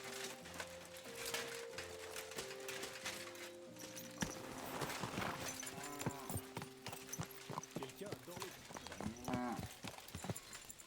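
Horse hooves clip-clop at a ride in the video game Kingdom Come: Deliverance II, a rhythmic thudding under game music, with a horse snorting near the end.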